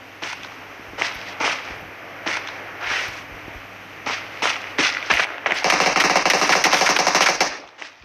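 Rapid bursts of video-game gunfire in PUBG Mobile, several separate shots and short volleys early on, then a sustained loud automatic burst near the end, close and sharp with no talk.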